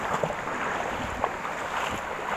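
Big ocean waves wash and rumble at a rocky shore-casting fishing spot, a continuous broadband roar with wind buffeting the microphone.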